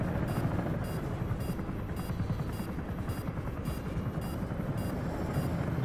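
A Comanche helicopter in a combat flight game, its rotor thumping in a fast steady pulse over a continuous engine roar, loud and unbroken with no voices.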